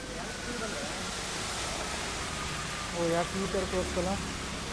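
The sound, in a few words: heavy rain falling on city streets in Bengaluru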